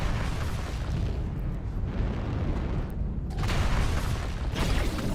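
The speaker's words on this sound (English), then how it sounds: "Airstrike online." Airstrike explosions in a mech combat game, a dense continuous roar of blasts and rumbling booms with sharper bursts near the middle, loud and close, without talk.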